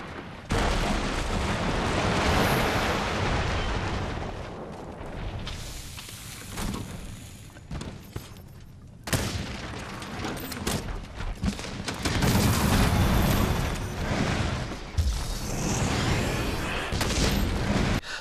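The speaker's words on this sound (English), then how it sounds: "Wyvern Snipe travels through the body of a monster, and then it blows up every time that bullet procced inside of the monster's body" Heavy bowgun Wyvern Snipe rounds burst again and again inside a monster in Monster Hunter World, a loud, dense barrage of booms and crackling blasts that keeps up almost without a break.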